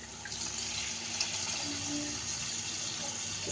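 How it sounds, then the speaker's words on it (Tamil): Tamarind water pours into a pot of karunaikilangu kuzhambu in a steady, close, continuous splashing stream with no pauses. "புளி தண்ணி ஊற்றுறோம்"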